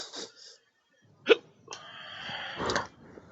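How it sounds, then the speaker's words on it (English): Several abrupt hiccups from a man, one sharp and prominent in the middle, with brief breathy sounds between them in a quiet room. "Fucking hate the goddamn hiccups."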